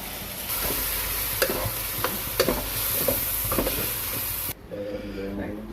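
Seasoned chicken is stirred in a hot pan, a loud steady sizzle with scattered scraping clicks of a utensil, the hiss cutting off abruptly near the end to a quieter background.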